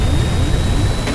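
An airplane engine in the survival game Stranded Deep gives a loud, steady jet roar that fills the whole moment without letting up.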